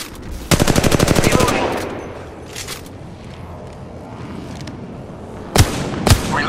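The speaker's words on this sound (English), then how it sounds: "Opening fire on the enemy" Rapid automatic gunfire from a firefight in the mobile battle royale game Apex Legends Mobile, a loud close burst of evenly spaced shots followed by scattered distant reports and two sharp later shots.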